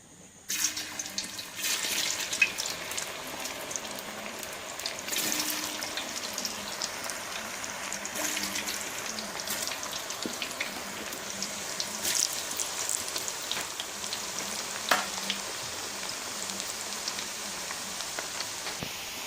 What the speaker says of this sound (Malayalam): എണ്ണ തിളച്ചിട്ടുണ്ട് ഇനി നമുക്ക് അരിഞ്ഞു വെച്ച കായ ഇതിൻ്റെ ഒത്തക്ക് ഇട്ട് കൊടുക്കാം